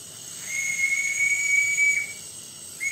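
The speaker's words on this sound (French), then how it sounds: "Avec un petit coup de sifflet." A Regner live steam locomotive (Kastenlok 102) whistle sounds one long, steady high tone with hissing steam behind it, then a brief second toot at the end.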